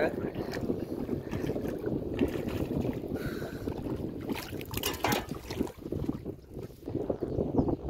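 Strong gusty wind buffets the microphone out on a river during prawn fishing, with rustling and faint splashing beneath it and a voice talking at times.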